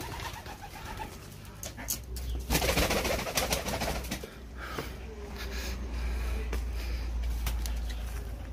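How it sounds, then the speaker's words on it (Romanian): Pigeons in an outdoor pen at an ornamental bird farm coo softly, low murmuring calls over steady ambient noise, with a brief burst of rustling partway through. "aici sunt niște porumbei în țarcă aici, în partea asta"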